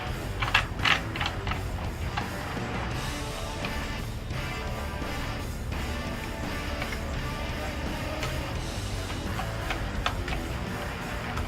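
Tail light screws being tightened, a steady stream of small ratcheting and clicking mechanical sounds at low to moderate loudness, continuous with no talking.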